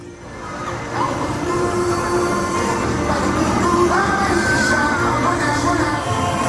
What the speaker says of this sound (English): if you like trains, well, you're in luck. You can catch a ride on this one